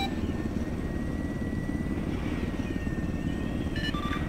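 Military helicopter in a combat video game, a loud continuous rotor thump and engine drone held steady throughout, with brief electronic beeps near the end.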